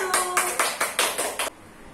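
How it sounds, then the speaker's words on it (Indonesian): Children clap their hands in a quick, even rhythm of about seven sharp claps during a church lesson for kids, then stop abruptly, leaving quiet room tone. "tepuk tangan dulu."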